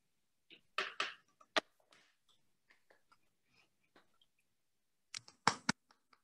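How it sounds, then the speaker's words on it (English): A few scattered, isolated claps from just two people close by at the end of an online mathematics lecture, with long quiet gaps between short bursts. "just sporadic clapping from two people just doesn't have that resounding effect if we were all in person"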